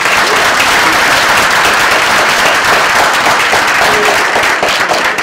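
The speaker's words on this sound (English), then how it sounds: "a round of applause for the staff that put this together" Sustained, loud applause from a crowd honoring event staff at a community challenge gathering, dense clapping holding steady without a break for several seconds.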